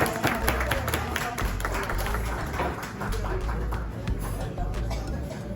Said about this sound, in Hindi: एक दफ़ा जोरदार तालियां हो गई।